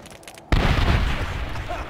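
A grenade in Medal of Honor 2010 detonates in a sudden loud boom, then a dense roar of gunfire and rumbling carries on, with a muffled voice faintly audible beforehand.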